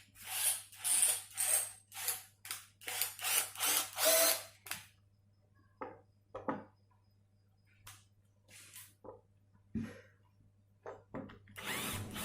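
Electric hand drill unscrewing hardware from a Washburn X series guitar body, a run of rapid buzzing bursts followed by scattered clicks, taps and short whirs close to the microphone, with no talk.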